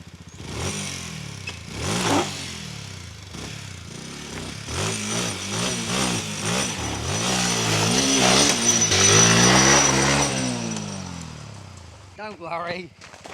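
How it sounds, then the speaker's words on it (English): A motorbike engine revs repeatedly as the rear wheel spins out after slipping off the road, rising and falling in pitched bursts up close, with someone talking throughout. "I think we're gonna have to fucking wheel spin that one out there"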